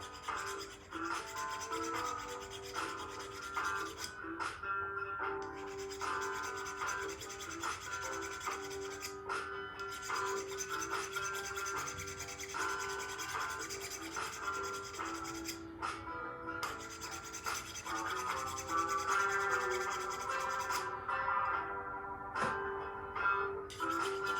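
A cut 4 ring file works the inside of a sterling silver wedding band, steady rasping strokes repeating in an even rhythm at close range, with brief pauses between passes.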